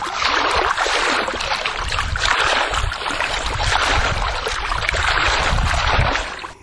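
Steady rushing, splashing water in a summer backyard, loud and close, continuing without a break for several seconds with no voices.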